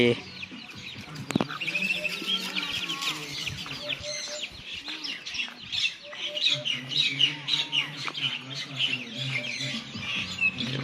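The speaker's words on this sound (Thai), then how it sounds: "จะมาเจอไก่" Several chickens cluck and squawk nearby in an ongoing chorus at a zoo's farm animal area, with small birds chirping in the background.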